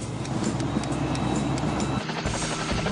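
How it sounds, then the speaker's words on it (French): A helicopter in the Fireman Sam cartoon flies close by with a loud, steady rotor roar and rapid thudding blade pulses that carry on throughout without speech. "Je suis dans l'hélicoptère."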